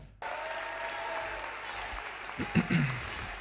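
Applause from an audience for a politician starts abruptly and carries on as a steady wash of clapping, with a voice briefly breaking through near the end.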